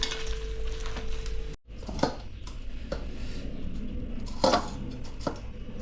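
Aloo vadi ingredients being mixed by hand in a bowl in a home kitchen, with soft scraping and rustling, a few sharper taps and clinks of the bowl, fairly quiet and close.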